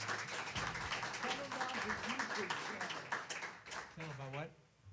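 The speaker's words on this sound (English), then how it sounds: "round of applause for Dom Moio on the drums" Applause for the drummer at a live jazz trio show at Ravenscroft rises from the audience while someone talks over it, and the clapping fades out at the end.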